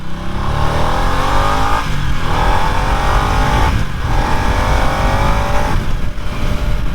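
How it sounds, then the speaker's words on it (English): A 2024 Harley-Davidson Nightster Special motorcycle engine revs loud and hard at high RPM, climbing in pitch, easing off briefly and winding up again several times at high speed. "this bike really lets you know that it needs to be revved out"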